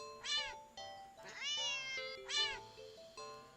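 A cat meows repeatedly, close and clear, with several rising, wavering cries spaced through a short stretch alongside a soft tonal game-like backdrop.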